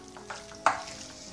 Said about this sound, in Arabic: كتشوى، كتوجد بسرعة